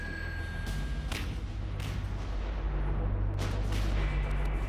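Marines fire an M777 howitzer outdoors, sharp broadband blasts recurring several times across a few seconds over a constant low rumble, loud and fairly near.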